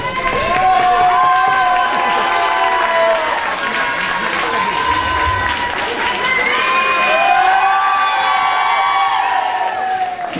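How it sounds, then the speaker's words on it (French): During a Mademoiselle Marne 2017 beauty pageant, the audience applauds a contestant, a loud continuous wash of clapping mixed with cheers and high whistles that swells again near the end. "Vous avez raison de l'applaudir bien fort"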